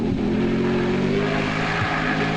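An off-road rally car engine idles along at low RPM during a muddy stage of the Baberspan 500, a steady, rumbling drone that holds close and even with no break.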